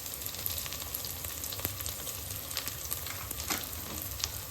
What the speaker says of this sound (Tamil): அது இல்லாமல் இந்த வெறும் மிளகாத்தூள் இந்த எண்ணெயிலே வதங்கணும்